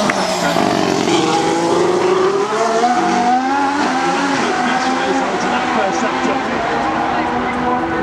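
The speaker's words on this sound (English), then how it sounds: "Ricciardo squeezing everything he possibly can out of the car" A Formula 1 car screams through a lap of the Singapore Grand Prix street circuit, its high-revving engine rising and falling through gear changes, loud and continuous beneath a commentator's voice.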